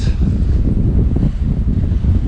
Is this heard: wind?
yes